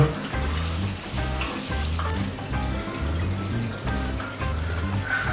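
Water is poured into a 450-litre aquarium with an Aquael Hypermax 4500 filter running, a continuous splashing, trickling rush with a low rhythmic pulsing underneath, close by and without talk.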